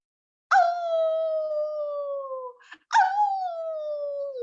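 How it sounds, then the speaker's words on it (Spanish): Dogs howl at the moon at night in a village in the State of Mexico, giving two long, loud, clear howls that fall slowly in pitch, separated by a short pause. "cuando los perros aúllan a la luna"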